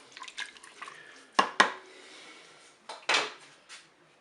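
Pork with carrots and tomatoes is stirred in a Cookeo pot, a few sharp utensil clinks and scrapes against the metal pot sounding close and isolated between quiet pauses.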